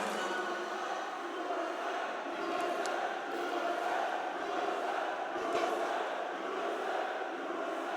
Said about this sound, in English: The crowd certainly behind them now.